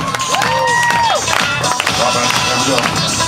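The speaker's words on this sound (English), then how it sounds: "everybody, clap those hands" Audience at a dog show at the 2022 Indiana State Fair joins in with crowd noise, cheers and scattered clapping, with whistle-like tones and voices mixed in, sustained and fairly loud throughout.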